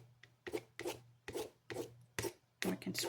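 A scraping tool rasps across a painted artwork surface in about seven short, separate strokes, close and fairly quiet, with no talking.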